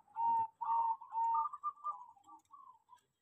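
A zebra dove (perkutut) in a small cage gives a clear, close coo series: several rolling, tonal notes that start strong and trail off into softer, shorter calls.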